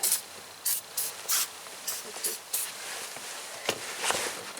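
Lubricant sprays from an aerosol can during a rear window replacement on a Ford F250: a run of short, close hissy bursts, about seven in quick succession, then a fainter lingering hiss.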